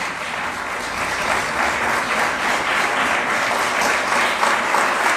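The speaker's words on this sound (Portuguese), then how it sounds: "aplauda bem forte aquele que vive." A church congregation applauds loudly and steadily at a worship service, a dense, even wash of many hands clapping with no pauses.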